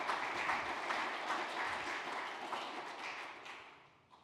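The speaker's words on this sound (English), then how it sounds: "another round of applause while we're waiting for those microphones to go out" A seated audience gives another round of applause at a cultural event, a dense, steady wash of clapping that carries at an even level and fades slightly near the end.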